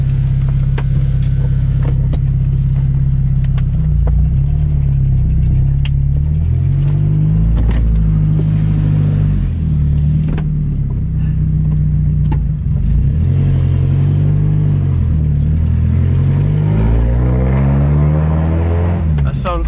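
A car engine with a newly installed exhaust and fresh oil change rumbles loudly and steadily, close up, with a few revs and rattles over the drone, while people talk over it.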